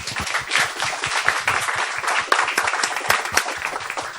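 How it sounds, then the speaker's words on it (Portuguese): An audience applauds a presenter at an advanced manufacturing talk. The clapping is steady and fairly close, with a few sharper individual claps standing out throughout. "Eu queria só pedir uma salva de palmas para o Jefferson."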